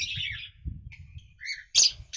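Birds in an enclosure give several short bursts of high chirping calls, fairly close, over a steady low rumble.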